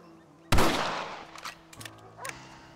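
A rifle shot in Red Dead Redemption during target practice, a single sharp loud crack with a decaying tail, followed by faint clicks and handling noises in a quiet outdoor setting.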